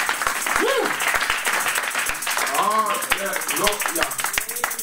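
A church congregation bursts into sustained applause and clapping, mixed with raised voices cheering and calling out over the claps.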